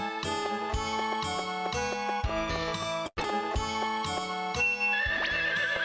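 A horse whinnies in Harvest Moon 64, a bright, tonal synthesized neigh repeating in quick stepped pulses over game music, with a brief dropout midway and a higher chime-like tone near the end.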